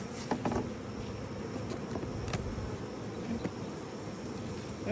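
Honey bees fanning and buzzing at a hive entrance, a continuous dense droning hum with individual bees zipping past up close, steady in loudness throughout, with no voices.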